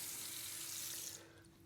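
Running water from a tap splashes as a tile-cleaning sponge is rinsed during a bathroom wall tile job, a brief close rush that cuts off near the end and quiets.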